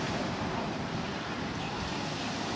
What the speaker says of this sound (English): The waves are really big out there.